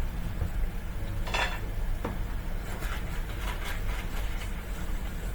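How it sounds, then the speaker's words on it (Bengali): A spoon scraping cooked chicken meat off the bone in a bowl: a few close metallic scrapes and clinks, the clearest near the start, then lighter scraping over a steady background hiss. "এভাবে একটি চামচ দিয়ে ধরে আমি আমার মাংসটিকে এভাবে"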